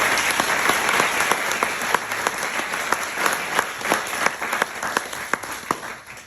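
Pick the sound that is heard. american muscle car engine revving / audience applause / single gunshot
audience applause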